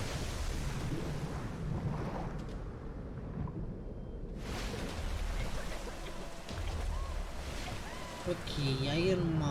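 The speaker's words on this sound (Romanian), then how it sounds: "Un ocean, cred că e în ocean." Ocean waves wash and surge around a shipwreck scene in a Tomb Raider game, with steady rushing water, a brief quieter lull midway, and muffled game sounds near the end.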